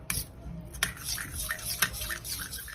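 A spoon stirs curd with sugar in a bowl for dahi vada, giving soft repeated scrapes and clinks against the bowl's sides in a quiet steady rhythm, close by with no talking.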